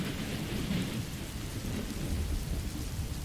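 Steady rain pours down with a dense, continuous hiss, rumbling thunder rolling underneath throughout, with no voices.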